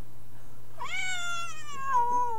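A cat gives a single drawn-out meow, close and clear, with a low steady hum underneath and no talking.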